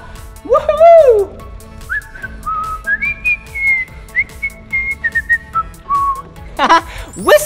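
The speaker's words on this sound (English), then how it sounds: "You heard my whistle?" A person whistling: a wavering swoop followed by a long series of short, high piping notes, then a final rising swoop, loud and close with voices alongside.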